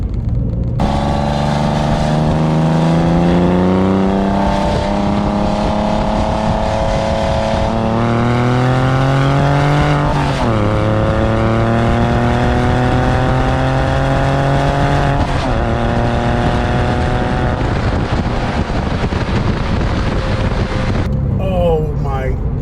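A Porsche 911 996 with an FD Motorsports Fister exhaust roars loudly as it accelerates hard on a highway, its exhaust note climbing in pitch and dropping back with each gear change, with wind rushing throughout.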